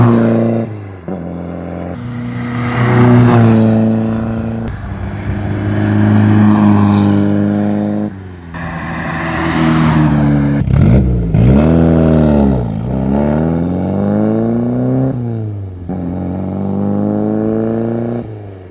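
A 1965 Triumph TR4 IRS engine revs hard again and again, rising and falling in loud, close bursts with strong harmonic sweeps, standing alone with no talk.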